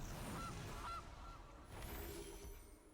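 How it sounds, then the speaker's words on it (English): Honking goose effect for the Gilded Goose card in Magic: The Gathering Arena, two short nasal honks near the start over a dense, loud game-music bed that continues throughout. "So off the bat with the Gilded Goose."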